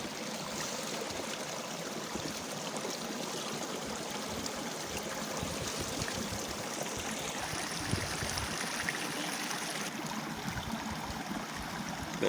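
Clear stream water flows steadily in a green valley, a continuous broadband rushing and trickling that stays even and fairly close throughout with no voices.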